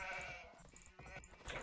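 Sheep bleating in the Age of Empires II strategy game, a couple of short bleats over busy in-game sound effects, with no talking.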